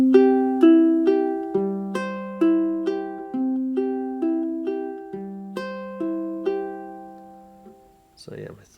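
A ukulele fingerpicked in a repeating thumb-and-finger pattern for a song intro, bright plucked notes ringing one after another in a steady rhythm, close and clear, ending in a soft handling rustle.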